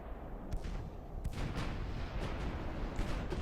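Heavy 18-inch naval guns of a battleship fire in the naval warfare game Ultimate Admiral: Dreadnoughts, a few sharp booms rising out of a constant low rumbling battle din.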